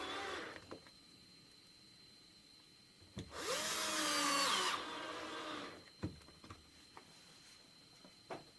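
A power tool drives screws to fasten a machined part down in a workshop, one steady whirring run of about a second and a half, with light clicks and taps before and after.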